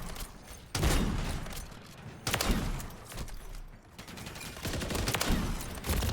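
Sniper rifle gunfire in a video game: loud, heavy shots at about one, two and five seconds, each followed by a long rumbling tail over continuous background noise, with no talk.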